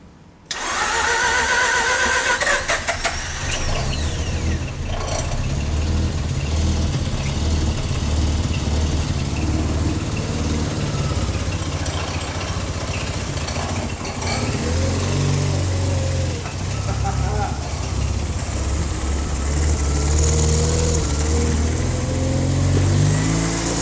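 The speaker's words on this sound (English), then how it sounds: "a rattling noise when it started. It's just the exhaust bracket." A rebuilt rotary engine in a JDM car cranks and fires, then idles loudly and unevenly with occasional revs, a loose exhaust bracket rattling against it throughout.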